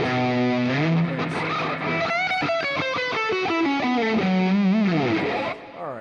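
A distorted electric guitar plays a riff harmonized in parallel perfect fifths, two lines moving together through bends and quick runs, loud and close with no talking.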